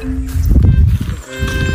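Carabao water buffalo lowing, a single deep moo that is short and close.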